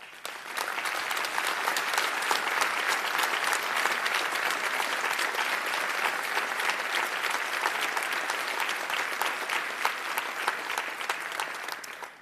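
Sustained audience applause at a political speech, dense steady clapping from a large crowd lasting over ten seconds, loud and even before tapering off at the end.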